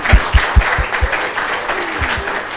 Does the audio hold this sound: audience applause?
yes